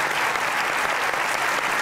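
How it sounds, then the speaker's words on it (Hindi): Studio audience at a comedy talk show applauding a pair of Pakistani boxer guests, a steady dense clapping that fills the room at close range with no talk over it. "बहुत ताली होनी चाहिए सर के लिए।"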